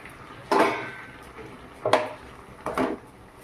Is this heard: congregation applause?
no